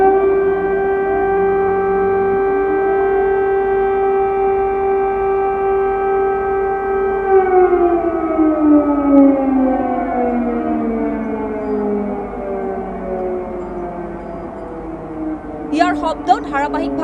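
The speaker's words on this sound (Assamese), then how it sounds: "যুদ্ধৰ সাইৰেন আচলতে এক তীব্ৰ শব্দৰ ৱাৰ্নিং চিষ্টেম।" A war-time air-raid warning siren wails loudly and alone, holding a steady tone before its pitch slowly sinks and fades, with a short burst of other noise near the end.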